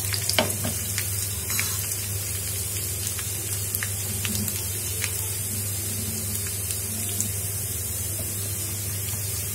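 Shallots and dried red chilies fry in a pan of hot oil with a dense, constant hiss and crackle. Small pops and faint stirring scrapes are heard up close, with no talk.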